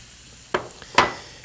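A spoon stirs cream and black pepper into a pan just taken off the flame, giving two short soft scraping swishes close by with quiet gaps between.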